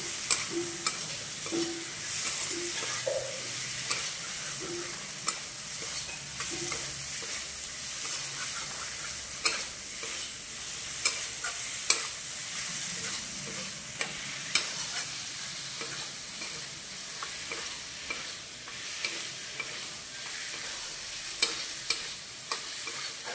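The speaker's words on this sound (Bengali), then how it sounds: "এবার দিয়ে দিলাম ভেজে রাখা আলুগুলো দিয়ে একটু কষিয়ে নেব।" Pre-fried potatoes get sautéed in masala for a Bengali prawn curry, with a constant close sizzle under repeated spatula scrapes and sharp taps on the pan throughout, no voices.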